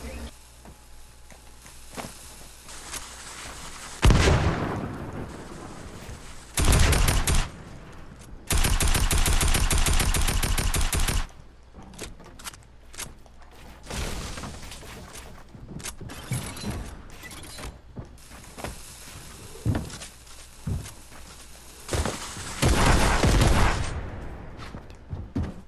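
Shotgun blasts in an online video game, a few loud bursts spread among quieter gameplay noise with a player talking over it.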